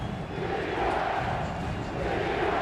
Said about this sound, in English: The Bronco crowd chanting for this defense to come up with a big play or a big stand.